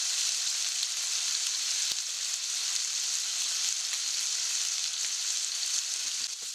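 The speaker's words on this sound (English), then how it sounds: "Frying potatoes prevents them from falling apart while simmering." Potato pieces frying in oil in a pan for Japanese curry give a steady, loud, continuous sizzle throughout, with no talking.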